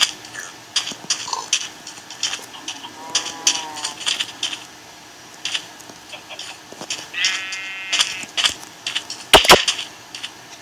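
Bleating and lowing farm-animal calls from a video game come in several short, separate cries between quiet stretches, alongside clicks and one sharp loud burst near the end.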